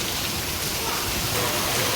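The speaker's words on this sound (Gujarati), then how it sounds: "વરસાદ ચાલુ થઈ ગયો છે" Heavy rain pours steadily in open village country where sheep are grazed, a loud, dense, unbroken hiss filling the whole two seconds with no pauses.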